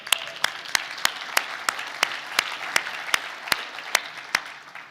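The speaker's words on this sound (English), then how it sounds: "You can clap." Applause from an audience at a workplace awards ceremony, a soft bed of many hands with one louder pair of claps ringing out in a steady, evenly spaced beat across the stretch.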